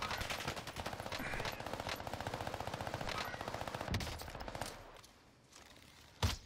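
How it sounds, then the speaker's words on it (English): Rapid automatic SMG fire in Call of Duty: Warzone, a long unbroken burst of dense rattling shots lasting several seconds, then a quieter lull and one last loud shot near the end. "That's a SMG that's doing that"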